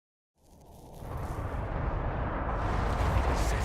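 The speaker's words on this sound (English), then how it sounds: "Setting off explosions in an underground ruin." In the video game Dragon Age: Inquisition, after a brief silence, a deep rumbling explosion blast in an underground ruin swells up and keeps roaring, low and heavy, as if echoing through an enclosed space.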